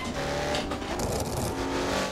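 Loud, steady engine drone from a car in the racing game Assetto Corsa, driven on the Union Island map with traffic. The engine holds a continuous, sustained roar across the whole moment.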